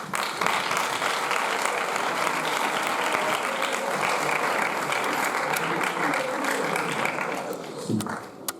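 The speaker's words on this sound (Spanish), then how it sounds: "os dejo con Marco, le damos un fuerte aplauso de bienvenida" Sustained applause from an audience welcoming a guest speaker at a school conference on space, steady and dense for about eight seconds, then tapering off quickly at the end.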